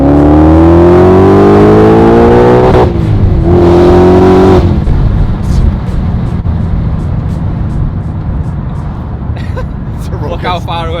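An 800 bhp supercharged Mustang accelerates hard up close, its loud engine note climbing steadily in pitch, breaking at two quick gear changes, then settling into a broad, roaring rush that slowly fades as the car pulls away.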